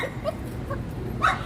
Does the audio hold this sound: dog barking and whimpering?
yes